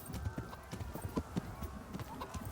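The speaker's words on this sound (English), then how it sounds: "Teresa, get on this horse." Rapid, rhythmic hoofbeats of a galloping horse in the video game Kingdom Come: Deliverance, steady and close, with faint background noise.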